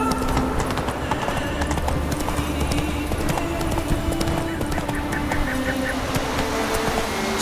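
Roach, a horse in a video game, clip-clops in a steady, fast hoofbeat rhythm that runs throughout, set against a continuous low background hum.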